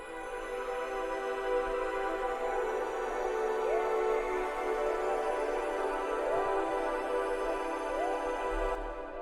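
Sustained dreamy synth pad for a pop song pre-chorus, steady and moderately loud, with soft repeating swells over a constant high shimmer and no voices.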